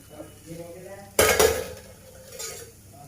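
A lid goes onto a pan of millet utappam ponganalu with a sudden metallic clatter and rattle at one point, followed by a softer knock, amid quiet kitchen sounds.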